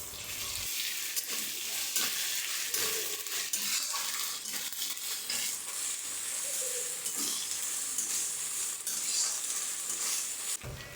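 Ginger garlic paste added to fried onions in a pan, cooking for a silver carp curry. It sizzles and crackles steadily close up, with scraping stirs and small clinks throughout.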